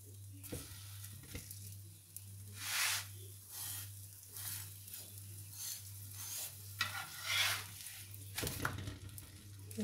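A green onion paratha frying in oil on a pan sizzles softly in waves, with occasional louder crackles and scraping as it is pressed and turned, over a steady low electrical hum.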